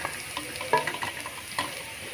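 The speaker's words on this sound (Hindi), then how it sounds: "3-4 मिनट आपने इसको अच्छे तरीके से फ्राई करना है मीडियम आंच पे" Potatoes fry in a pan over medium heat for aloo methi, giving a soft, steady sizzle with a few sharp scrapes and stirs at about 0.7 and 1.6 seconds.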